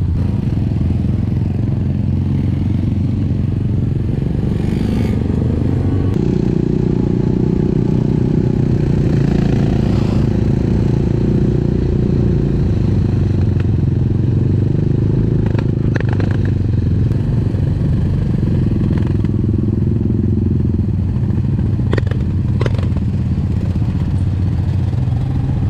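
A group of motorcycles rumbles steadily on a rural route toward Villa del Campo, some of them damaged, their engines loud and close throughout with occasional clatter and shifts in revving.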